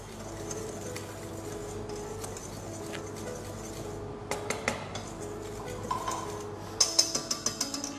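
A whisk works through eggless fruit cake batter in a bowl, light scraping and clinking against the sides that grows into a quick run of rhythmic taps near the end, close and moderately quiet.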